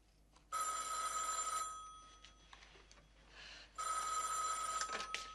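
An old-style telephone bell rings in two long, loud bursts of rapid clanging with a short pause between, heard close in a quiet room.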